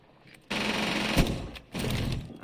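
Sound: SMG gunfire in Rainbow Six Siege video game

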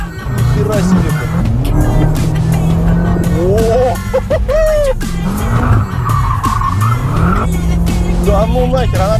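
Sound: BMW M5 tires spinning and squealing at speed

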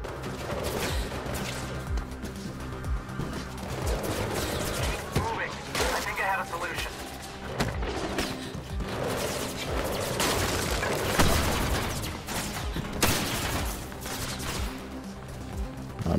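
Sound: gunfire and bullets in the video game Mirror's Edge Catalyst

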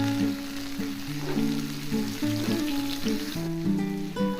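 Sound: frying and stirring tomato and spices

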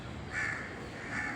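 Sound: crow cawing

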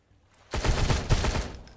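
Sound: AK rifle gunfire in the video game Sunkenland

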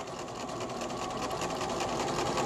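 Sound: sewing machine stitching a quarter-inch seam

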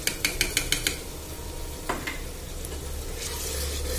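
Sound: ginger garlic paste frying with onions in pan

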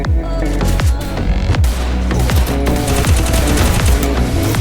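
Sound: gunfire in Free Fire video game

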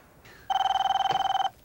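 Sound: telephone ringing

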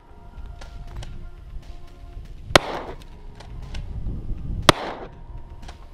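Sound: three 12 gauge slugs fired from a Kel-Tec KSG at armor plate

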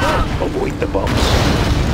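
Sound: bombs exploding in video game Command and Conquer Generals

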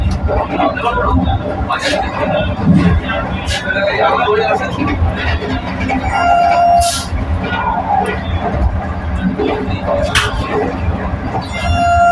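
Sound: Vande Bharat high speed train running, Puri to Howrah

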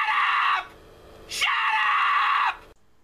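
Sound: annoyed scream

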